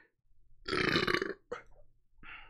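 A loud, drawn-out burp after drinking Dr. Mr. Ultra Pib soda, rumbling for about half a second, then a short second belch and a softer trailing one, all close up with no talk.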